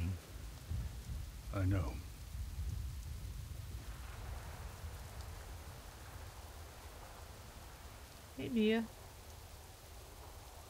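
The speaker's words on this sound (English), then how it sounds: "It's funny how it always rains in Gilneas, right?" Steady rain in rainy Gilneas in World of Warcraft, a soft continuous hiss with a faint low rumble, briefly interrupted by two short spoken phrases.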